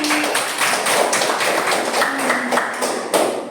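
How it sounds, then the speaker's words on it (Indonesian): A classroom group claps their hands together, brisk continuous clapping from many people at once, fairly loud and close, with faint voices mixed in. "Ya, tepuk tangan lagi"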